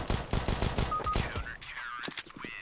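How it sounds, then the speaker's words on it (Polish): Rapid bursts of Counter-Strike gunfire, a fast stream of shots, followed by quieter electronic game sounds. "No, no, normalne strzały."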